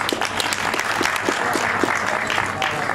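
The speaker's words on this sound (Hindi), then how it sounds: "जोरदार तालियों से इनका स्वागत भी करें।" Guests at a college batch reunion in Kurukshetra clap vigorously to welcome a doctor garlanding a portrait of Lord Dhanvantari, a thick, continuous burst of crowd applause at moderate loudness.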